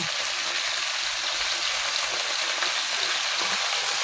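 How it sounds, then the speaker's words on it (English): Steady, dense sizzling of vegetables frying in a hot frying pan, continuous crackle close by with no voices. "There the sizzle."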